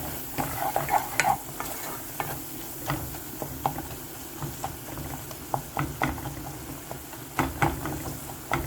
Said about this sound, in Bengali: মশলা ভাজা হয়ে গেল